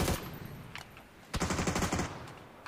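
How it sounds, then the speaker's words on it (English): Bursts of automatic gunfire in PUBG, a sharp volley near the start, a short pause, then a longer rapid string of shots, loud and close with no talk over it. "Getting shot from the high ground"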